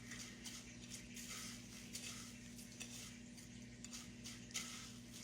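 Butter-coated cracker topping stirred for a casserole in a home kitchen, a soft continuous scraping and clinking of utensil against bowl, faint and steady under a low background hum, with no talking.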